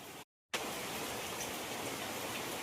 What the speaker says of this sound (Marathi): बापरे, खूप पाऊस पडतोय